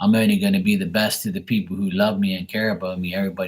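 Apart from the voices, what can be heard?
No everyday noise stands out behind the speech.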